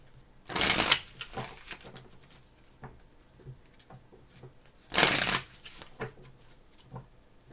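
A deck of tarot cards being shuffled gives two loud riffling bursts a few seconds apart, close by, with light card taps and handling in between.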